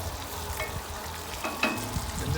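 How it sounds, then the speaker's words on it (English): Cabbage fries in bacon grease on an Old Country Wrangler pit smoker, a steady close sizzle with a few scraping stirs and light pops, and no voices. "the cabbage has been cooking in that bacon grease for about 2 minutes"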